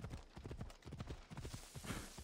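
Horse hooves clip-clop in Assassin's Creed Odyssey as a close, rapid, uneven run of thudding footfalls, loud and continuous across the whole moment.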